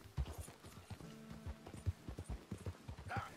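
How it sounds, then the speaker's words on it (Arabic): Horse hooves gallop in Red Dead Redemption 2, a quiet rapid clip-clop of hoofbeats at a steady rhythm with a brief whinny near the end. "والله تشوف حصانك تحت تسوي له النطة الاحترافية وراح تحصل أنه آرثر والله ينط فوق الحصان"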